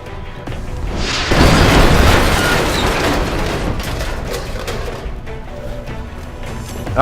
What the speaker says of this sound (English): I thought the explosion from this power generator had a larger radius